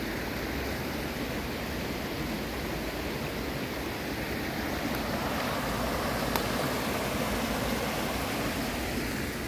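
Rain-swollen small stream rushing into a winter river amid old-growth woods, a steady broadband watery roar that holds constant and close throughout, with no voices.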